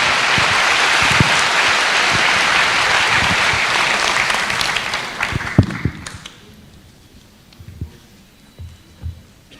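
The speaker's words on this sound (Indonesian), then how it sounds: "Sekali lagi tepuk tangan yang meriah untuk Pak Ganjar" An audience at a public university lecture at Unpar claps loudly and steadily for about six seconds. The applause then thins out into a few scattered claps and fades.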